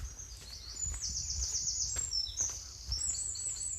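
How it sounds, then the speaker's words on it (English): Birds sing in a wood, repeated high chirping phrases overlapping one another at moderate distance over a quiet outdoor background, with no talking. "All those birds sing again."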